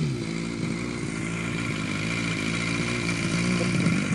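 An engine runs very slowly at about 20 RPM, a close, loud and unchanging droning hum throughout, with no talking.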